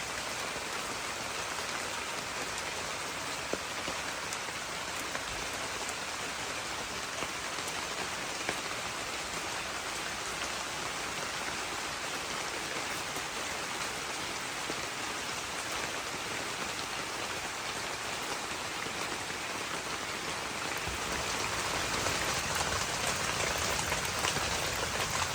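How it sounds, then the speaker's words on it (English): Steady rain falls outdoors, a continuous dense hiss of drops on surfaces that holds at an even level throughout, with no voices. "At 1 o'clock, it was still raining."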